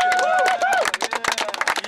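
A studio audience on a Dutch regional TV sports show breaks into scattered clapping after a short stretch of voice, the claps close and irregular rather than a dense roar.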